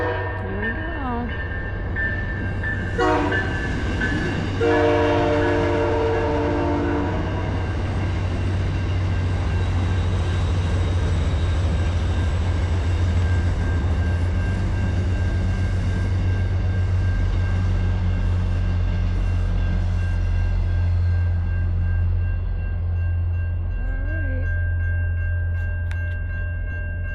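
A South Coast Rail train passes the Berkley level crossing at night with a loud, steady rumble, while crossing bells ring and the horn blasts in short bursts near the start and again faintly near the end.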